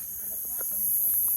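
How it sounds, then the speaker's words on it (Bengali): Crickets chirp around a rural home in the evening, a thin, continuous high-pitched trill heard steadily across the short stretch with faint background activity. "এখানে কি ডাক, ঝিঝি পোকার"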